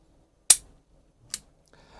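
Two sharp metallic clicks about a second apart from an Umarex Glock 17 Gen 5 CO2 air pistol trigger being dry fired, crisp and close, with quiet between them.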